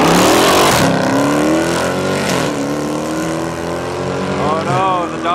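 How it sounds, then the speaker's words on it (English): A Dodge and a Toyota Supra launch off the line in a street-legal drag race at St. Thomas Raceway Park, engines roaring loud and rising through gear changes, with voices talking over them. "Oh no, the Dodge had him off the line, folks."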